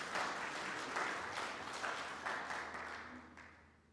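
Applause from an audience, a dense patter of clapping that gradually thins and fades out over a few seconds.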